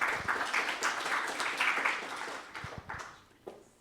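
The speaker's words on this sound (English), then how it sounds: "So we give a round of applause" Audience applause at a product growth conference at UC Berkeley, welcoming a sponsor representative to the stage; a sustained patter of many hands clapping at moderate distance that thins out and fades toward the end.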